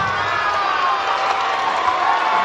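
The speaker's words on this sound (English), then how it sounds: "That's what you hear from the crowd here." A dense arena crowd at a Zamboanga versus Bacoor City MPBL 2023 basketball playoff game roars and cheers continuously, a loud sustained wash of voices with no pauses.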